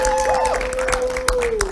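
A church congregation clapping and applauding, a dense brief wash of hands with crowd murmur and a sustained tonal hum running under it.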